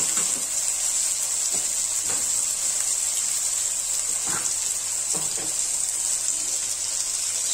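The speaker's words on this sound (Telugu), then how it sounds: "ఇప్పుడు మనం కొద్దిగా వాటర్ ని ఇందులో యాడ్ చేసుకుందాం." Water is poured into a hot cooking pan holding tomato pieces and cumin for paneer butter masala, producing a steady, even hissing wash that lasts throughout.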